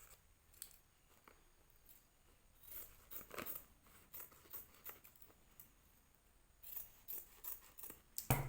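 Scissors cut through old saree fabric in quiet, close snips and soft fabric rustles, coming in irregular bursts with louder clusters near the middle and end.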